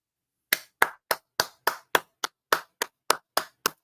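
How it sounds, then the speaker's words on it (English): Applause comes as about twelve sharp, evenly spaced claps, loud and close, like a single pair of hands, with no voices. "give Letitia a round of applause for this"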